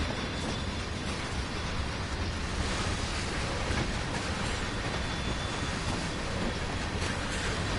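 Trains in Train Sim World 2020 at night give off a steady, close rumble of rolling wheels and rail noise, continuous and unbroken throughout, with no talking.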